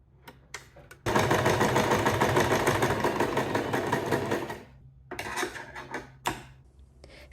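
Sewing machine stitching a handbag made from reused children's traditional wear, running in one steady, loud, close burst of about four seconds, preceded and followed by a few scattered handling taps and clicks.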